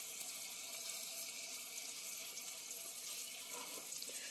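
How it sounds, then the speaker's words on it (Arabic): Onion soup with cheese coming to a boil in a pot, a faint, steady watery bubbling and hiss that runs evenly throughout with no voices. "طبعا ابتدت الشوربة تغلي زي ما انتم شايفين كده اهو"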